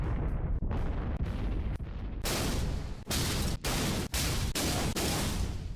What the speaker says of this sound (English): explosion sounds.